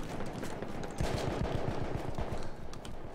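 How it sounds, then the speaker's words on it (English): Dense, rapid automatic gunfire and overlapping shots from a Battlefield 1 Domination match, a steady loud barrage of bursts with no talking. "I hear like a ton of gunshots, dude."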